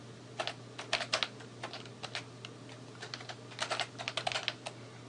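Computer keyboard typing of a terminal command, with quick bursts of close, crisp key clicks separated by short pauses over a steady low hum.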